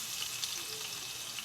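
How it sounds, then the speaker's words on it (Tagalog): Sliced radish sautés in hot oil, giving a continuous bright sizzle and crackle that stays even and close throughout, with no talking. "Magigisa tayo ng labanos."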